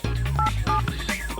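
Telephone keypad tones being dialed, a quick run of short beeps with gaps between, loud and close under background music, placing a call to a wildlife removal service.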